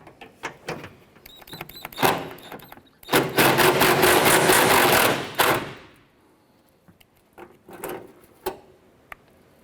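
A socket wrench ratchets a 10mm nut off behind the bumper of a 1993-1997 Ford Ranger, with scattered clicks and knocks, then a dense burst of rapid ratcheting for a few seconds, followed by more sparse taps.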